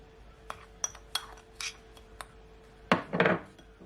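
A spoon mixing raw shrimp with seasoning in a bowl, a series of light scattered clinks and taps followed by a louder burst of scraping and clattering near the end, close up with no talk.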